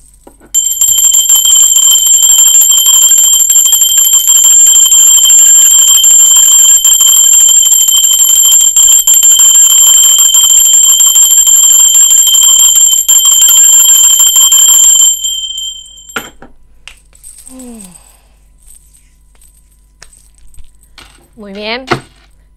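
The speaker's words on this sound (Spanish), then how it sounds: "Ahora sí, va campana." A bell rings steadily and loudly for about fifteen seconds as one sustained, shimmering tone, then falls silent, followed by a few faint knocks and brief sounds.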